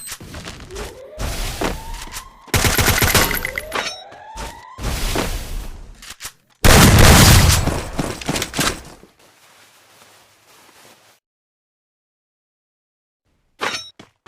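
Loud grenade blasts, gunfire and metallic clangs from the video game Free Fire burst out several times in quick succession, then fade into near silence before one short final burst.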